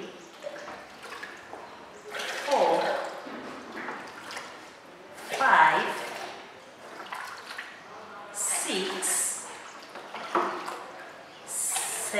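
Water is poured from a cup into a jug, one cupful at a time: soft splashing and trickling in repeated bursts that rise and fall over roughly twelve seconds, close by and moderately loud.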